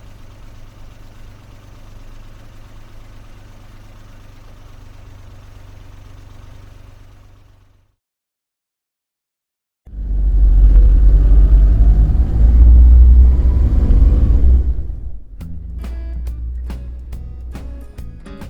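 Engine rumble of a company car idling and driving in a video game, a steady low drone that drops out to silence, then returns louder with a heavier rumble before easing into a quieter hum.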